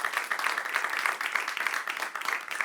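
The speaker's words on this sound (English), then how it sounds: "A round of applause for her, too." A studio audience claps steadily at moderate volume for a guest on a talk show, a brief even round of applause with no talking over it.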